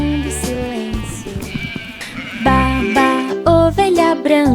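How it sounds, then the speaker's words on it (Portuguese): A cartoon-style sheep bleats repeatedly over a bouncy children's song with music, loud and close, in wavering tonal bursts. "Baba, ovelha branca, macia como a neve"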